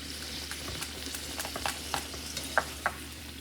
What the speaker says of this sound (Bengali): এইভাবেই সব কটা লুচি ভেজে নেব